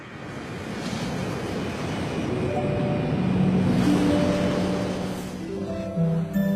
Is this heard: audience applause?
no